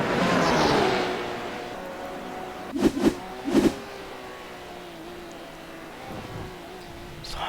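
Sim racing sports car engine at Lime Rock dropping off throttle, a loud high whine that falls away, followed by a few sharp popping bursts and a lower steady drone, no voices.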